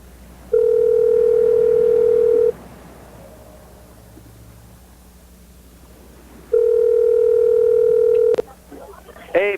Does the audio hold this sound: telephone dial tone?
yes